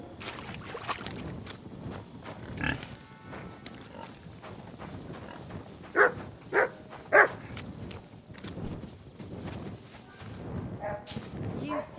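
A dog in the medieval role-playing game Kingdom Come: Deliverance II gives three short, loud barks in quick succession partway through, standing out against a steady murmur of game ambience.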